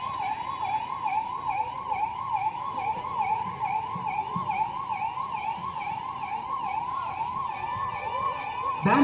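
An ambulance siren wails steadily and loudly during a police mock drill simulating a terrorist attack in KGF district, its rising and falling tone cycling evenly throughout with no voices.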